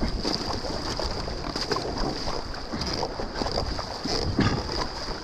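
Ocean waves and water rushing around a surf ski during a paddle race into Sorrento Beach, a steady broadband wash with splashes and wind noise throughout, fairly loud and close.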